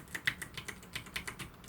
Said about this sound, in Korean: 키보드 버튼으로도 조절할 수 있습니다